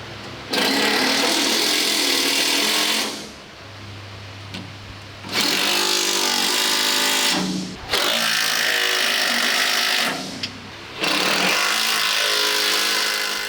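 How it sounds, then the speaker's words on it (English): Close by, an impact driver runs in three long, loud bursts with short pauses between them, tightening bolts on the engine mounts of a Panzer I tank under fabrication. A faint hum fills each gap. "doing these bolts up with an impact driver for now"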